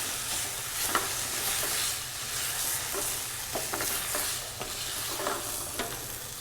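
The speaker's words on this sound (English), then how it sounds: "one more ladleful, stirring." Risotto being stirred in a pan over the heat makes a steady wet sizzle, with soft repeated scraping strokes of the spoon, close and continuous, with no talking.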